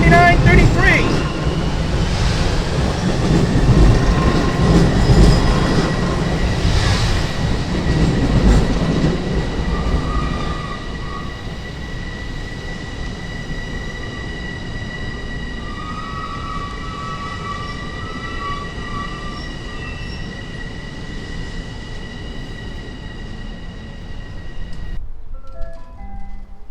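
LIRR M9 electric multiple unit train at Ronkonkoma station, a loud rumbling pass with wheel clatter and steady electric whine that fades to a quieter hum as the train moves off.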